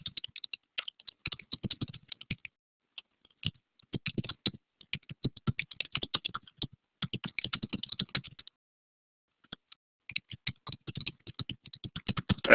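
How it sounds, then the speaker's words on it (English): Computer keyboard typing in bursts of quick, irregular keystrokes with short pauses between words and a longer gap midway, close and clear with no talking, as a sentence is typed out. "Just going to type it out."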